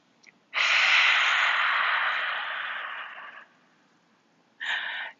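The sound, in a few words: lion's breath exhale, yoga breathing imitating a lion sound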